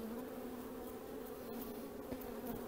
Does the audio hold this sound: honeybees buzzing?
yes